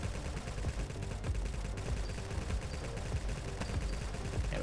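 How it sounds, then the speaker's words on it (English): A sped-up machine gun fires in the Nimrods shooter game, a rapid, continuous stream of close, loud shots blurring into a rattling fusillade. "I kind of like the sound this machine gun's making, now that it's sped up to this point."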